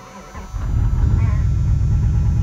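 Car engine starting in freezing cold weather, cranking up from a quieter moment into a loud, steady, rough idle that stays close and continuous to the end.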